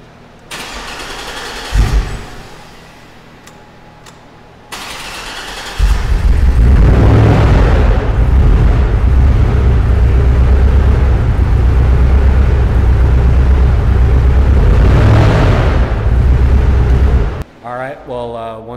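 A car engine with a cranking fault is tried after a few soft clicks and knocks, then catches and roars up to a loud, steady run for about twelve seconds before cutting off abruptly.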